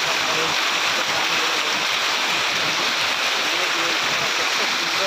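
Water pours over the Balidhyua dam in a steady, loud, full-band rush that holds without a break from start to end, with no talk heard above it.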